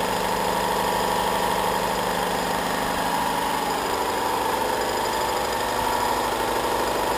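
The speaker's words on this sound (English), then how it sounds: "Sorry about my loud little compressor over there" Small air compressor runs close by in a paint shop, giving a loud, constant mechanical drone that never lets up.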